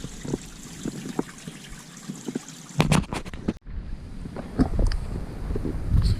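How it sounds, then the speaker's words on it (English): Small creek trickling over rocks along a forest trail with white quartz chunks, a close, continuous burbling wash with scattered splashy clicks and a brief handling bump midway. "Creek just drizzles down here."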